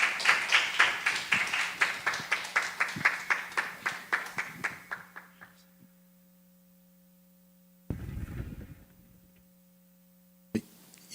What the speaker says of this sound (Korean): 우리 박수로 함께 환영하겠습니다